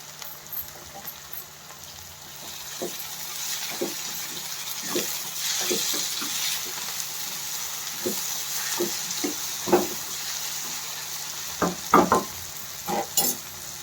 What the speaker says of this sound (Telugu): మొత్తం ఇలా కలిసేలాగా కలుపుకోవాలి